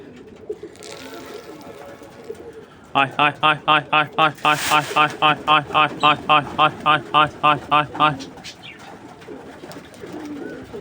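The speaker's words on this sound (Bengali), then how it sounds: "এ হলো আমার কবুতরগুলো" Pigeons cooing close by, a rapid run of about twenty rhythmic throaty coos in the middle, with quieter rustling before and after.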